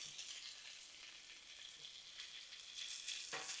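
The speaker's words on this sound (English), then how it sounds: "We want to cook this bacon on all sides." Bacon-wrapped brats sizzle on a Blackstone griddle with a soft, steady crackle, fairly quiet and close, ending in a sharper burst as one is turned.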